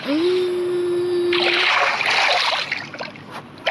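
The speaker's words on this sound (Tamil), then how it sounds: "இந்த மாதிரி தண்ணி இருந்தால் அதுக்குள்ளேயே லேண்ட் ஆகலாம்." A splash of a player landing in water in the Minecraft video game, a broad burst of watery noise following a rising tone and fading over about a second.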